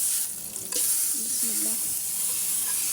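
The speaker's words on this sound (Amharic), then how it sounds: "ያው ከዛ ዶሮውን እዚህ በዝብዳው ጠብሰዋለሁ ማለት ነው።" Chicken fries in butter in a pan for rice bukhari, a loud continuous sizzle with a few soft stirring knocks and scrapes close by.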